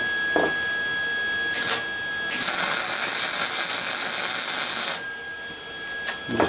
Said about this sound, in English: Let me weld this up and I can move along.